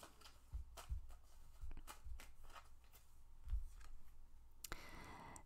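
Tarot cards being drawn and shuffled: soft papery flicks and slides repeat at an uneven pace, close and quiet, ending in a louder brushing shuffle.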